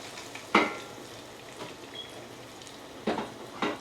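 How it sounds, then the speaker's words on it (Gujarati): Cashews roast in ghee in a pan with a low, steady sizzle, broken by a few sharper bursts of spattering as they are stirred. "આપણે અહીંયા ઘી અને કાજુને પણ મૂકી દીધા છે થોડા રોસ્ટ કરવા માટે"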